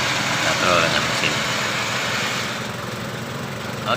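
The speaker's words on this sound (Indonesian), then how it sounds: "katrol mesinnya, katrol dengan mesin." Engine-driven pulley winch on a bore well drilling machine, a steady droning idle that runs throughout and eases slightly toward the end.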